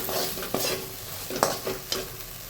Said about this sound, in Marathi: फ्राय करून ग्रेव्ही करू आपण